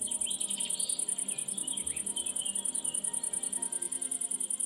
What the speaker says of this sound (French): Des cigales se font entendre.